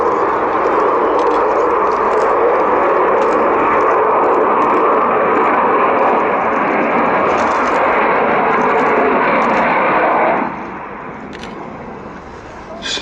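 An Avro Vulcan strategic bomber roars overhead in flight, its jet engines giving a loud, broad, sustained rumble that cuts off sharply near the end and leaves a quieter background, with camera clicks scattered through.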